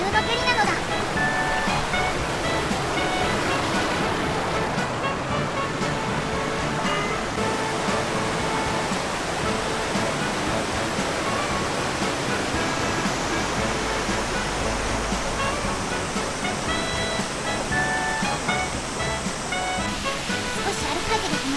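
A waterfall in the hills of Hiroshima rushes continuously near a hiking path, a loud, dense, steady roar of falling water that fills the whole span.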